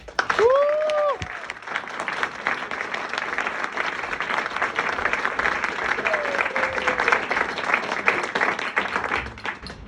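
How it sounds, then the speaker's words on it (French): A crowd in a Toulouse cellar poetry open mic applauds a performer arriving on stage, loud sustained clapping with a whoop or two at the start, running on for nearly ten seconds. "et on l'applaudit bien fort"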